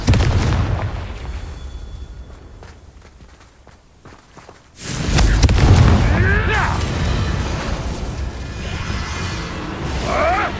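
A Confringo fire spell blasting in Hogwarts Legacy. A quieter stretch of footsteps gives way to a sudden loud explosive burst, followed by a sustained booming rumble with scattered crackles.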